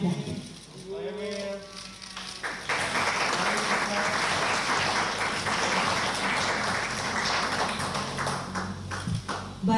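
Audience applause at an Indonesian political event in East Java, a dense burst of clapping that rises and holds steady, following brief talk at the start.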